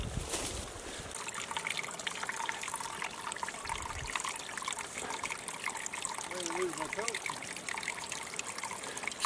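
Water trickles and splashes into a container at a hidden waterfall campsite, a light, uneven dribbling with a burst of louder gushing near the start, set against steady background flow.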